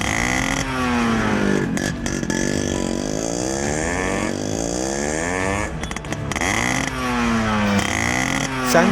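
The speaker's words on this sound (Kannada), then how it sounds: "ರಸ್ತೆಗಳಲ್ಲಿ ಕರ್ಕಶ ಶಬ್ದ ಮಾಡುತ್ತಿದ್ದ ದ್ವಿಚಕ್ರ ವಾಹನಗಳಿಗೆ ಅಳವಡಿಸಿದ್ದ 126 ಮಾರ್ಪಡಿಸಿದ ಸೈಲೆನ್ಸ್ಗಳನ್ನು" A two-wheeler fitted with a modified, illegally loud silencer revs hard and repeatedly nearby, the harsh engine note rising and falling in several throttle bursts with no talk.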